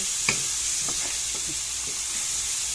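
Garlic and onion sauté in butter in a pan, giving a continuous bright sizzle with faint, regular scrapes and taps of stirring underneath.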